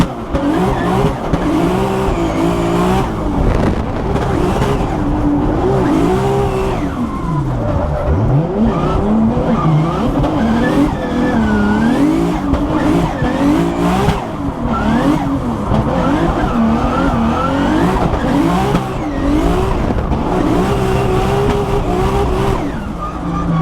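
A Formula Drift race car on track, loud engine revving and shifting with tire squeal as it slides through corners, continuous and close for the whole stretch, no talking.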